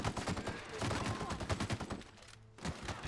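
Rapid bursts of gunfire in The Outer Worlds, many close shots firing in quick succession with a brief lull before another volley resumes, loud and dense throughout.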